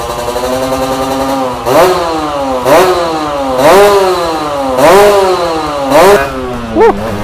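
Kawasaki Ninja R 150cc two-stroke drag motorcycle revving at a workshop, a steady idle broken by six sharp throttle blips that rise and fall in pitch, loud and close with no talking.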